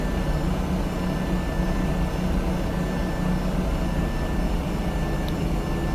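Airliner engines run steadily during pushback in the X-Plane flight simulator, a constant loud, low roaring drone with a faint high whine above it and no break throughout.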